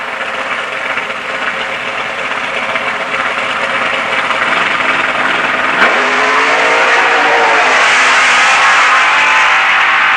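Drag racing cars at St Thomas Dragway in 1986 accelerate side by side down the strip, a loud sustained engine roar with rising pitch sweeps, continuous and close, with no talk.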